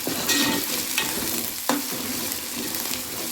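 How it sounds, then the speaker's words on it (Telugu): Onions with ginger-garlic paste and turmeric fry in a pan for a chicken curry, with a steady close sizzle and occasional sharp scrapes and clinks as a spoon stirs them. "కొద్దిగా అల్లం వెల్లిగడ్డ పేస్ట్, పసుపు వేసిన."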